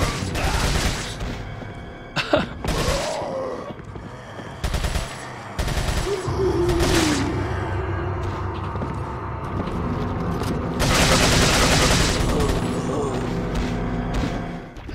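Shotgun fire in Resident Evil 4 during a church level: sharp, heavy blasts spaced irregularly among clanks and game noise, close and loud, with bits of talk in between.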